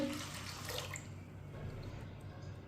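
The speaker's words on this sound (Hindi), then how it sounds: "अब इसमें 3 गिलास पानी डालेंगे।" Water poured from a glass into a cooking pot holding washed chana dal, a steady splashing rush for about a second that tapers into a softer trickle, close by and fairly quiet.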